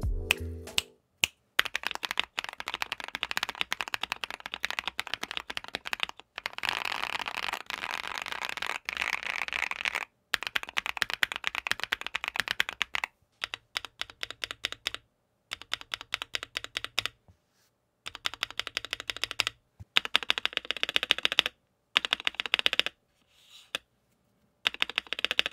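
Rapid bursts of typing on a Monsgeek M2 mechanical keyboard with a gasket mount and adjusted spacebar, crisp close clacks in fast runs broken by short pauses, with no talking.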